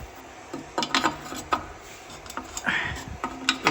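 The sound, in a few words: ratchet loosening a tight sensor on a BMW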